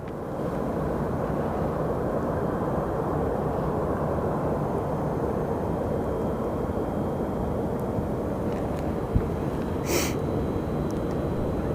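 A Southwest airliner arriving at Sky Harbor Airport produces a broad, steady roar that holds through the clip, with a brief click and a short hiss near the end.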